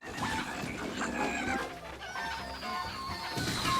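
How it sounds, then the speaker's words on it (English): Chickens cluck and squawk in a Zelda video game, a crowded burst of clucking over busy game sounds and music that carries on steadily without any pause. "An army of chickens will spawn out of nowhere and start attacking from all angles."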